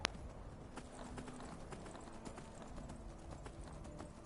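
Horse hooves clip-clopping in Skyrim, a steady run of faint, evenly spaced hoof clops over a soft background hiss, with no talking.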